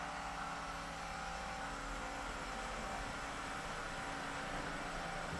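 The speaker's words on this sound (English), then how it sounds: "we're going to add some throttle." An electric-converted BMW E65 7 Series pulls away under throttle, giving a steady broadband whir and road rush with a faint high motor whine, even in loudness throughout and free of speech.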